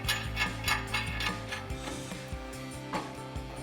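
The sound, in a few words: lug nut tightened onto wheel hub with ratchet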